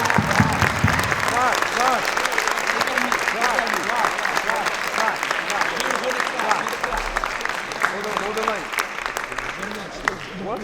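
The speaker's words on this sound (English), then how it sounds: "A round of applause." Sustained applause from a school audience after a student speaker's talk, steady and dense for about ten seconds, with voices calling and chattering throughout.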